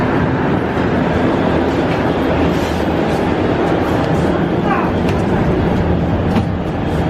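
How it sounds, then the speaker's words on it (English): Old Montreal Metro blue line train in motion, a loud steady broadband rumble and rattle of the car riding the rails from inside, continuous throughout with a brief squeal partway through. "This is an old train, so we can see what these look like."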